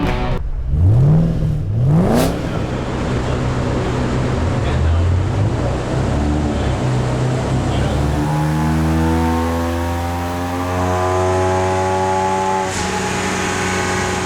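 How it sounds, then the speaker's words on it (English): A 2015 Ford Mustang EcoBoost on a dyno revs in quick bursts, then pulls through a long climbing run with rising, layered engine tones, loud and close. "Paul just finished up with a couple dyno runs here with our 2015 Ecoboost car. Definitely sounded healthy"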